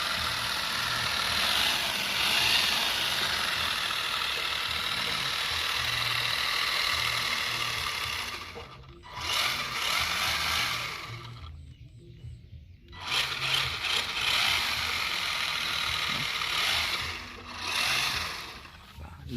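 A toy car's brushed electric motor runs with a steady, loud mechanical whir that dips and drops out briefly a few times before surging back up, with no voices.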